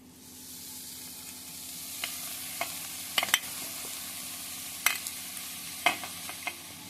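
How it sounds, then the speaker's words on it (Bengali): Drumstick flowers sizzle steadily in a pan of well-fried spiced masala with turmeric, with a constant fry hiss and intermittent sharp scraping and clicking from the stirring spoon, close up and with no talk. "মশলাটা খুব ভালো করে কষিয়ে নিয়েছি এবার দিয়ে দিচ্ছি সজনে ফুল"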